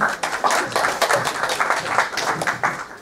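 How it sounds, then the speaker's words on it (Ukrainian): An audience at a youth policy talk in Brovary applauds to welcome the next speaker, a steady, full round of many hands clapping close by, brisk and even throughout. "Прошу привітати аплодисментами"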